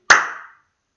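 A single sharp hand clap, close and crisp, with a short decaying tail in a quiet room.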